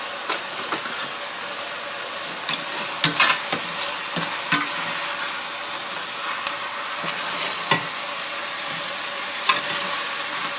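Shrimp and pork rice noodles sizzle steadily in a pan, a dense continuous frying hiss with occasional clicks and clatters of stirring, close and fairly loud, with no talking.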